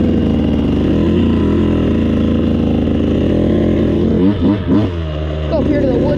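A dirt bike that has not yet warmed up runs loud and close with a steady, buzzing engine drone, briefly wavering in pitch as the throttle blips near the end.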